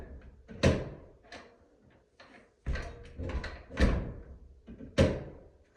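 A door in an A-frame house bangs shut several times, each slam a loud, sharp thump with a short ring-out, spaced a second or two apart, with quieter knocks and handling noise between them.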